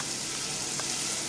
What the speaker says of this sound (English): So that fries for a bit now.